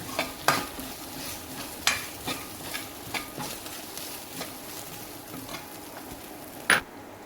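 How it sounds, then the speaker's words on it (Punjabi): Cashews roast with spices in a pan, a continuous close sizzle broken by sharp scrapes and clicks of a spoon stirring against the metal. "ਕਾਜੂ ਨਾਲ ਨੂੰ ਵੀ ਹੁਣ ਆਪਾਂ ਮਸਾਲਿਆਂ ਦੇ ਨਾਲ ਆਪਾਂ ਭੁੰਨ ਲੈਣੇ"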